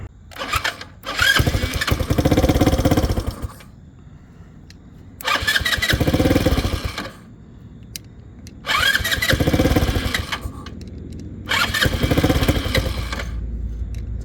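A Motobravo Roma 150cc scooter with an automatic choke is cranked and fires in four separate attempts, each a loud, close burst of engine roar lasting a couple of seconds, separated by short pauses of quieter idle-like rumble.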